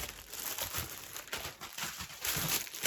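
A plastic parcel being torn open for unboxing gives faint, irregular crinkling and rustling in short bursts, with no talk over it.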